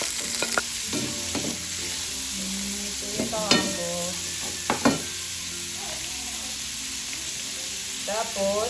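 Sliced carrots and chayote frying in a pan for pancit chami, a steady sizzle under the clatter of a spatula stirring and scraping, with a few short bursts of voice.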